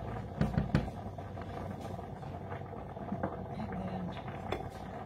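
Rice boiling in a pot on a home stove, a steady low bubbling and simmering hiss with a few louder pops and clinks near the start, close and moderately quiet, no talking.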